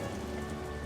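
Steady rainfall on surfaces, a dense even patter of drops throughout a brief stretch, fairly close, with a faint sustained tone beneath and no voices.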